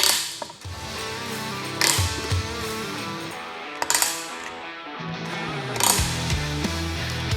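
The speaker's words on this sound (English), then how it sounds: "We then take our pliers and we tighten each of the wedges." Pliers tighten plastic tile levelling wedges on freshly laid tiles, giving loud, close ratcheting clicks and grinding mechanical bursts in repeated rounds.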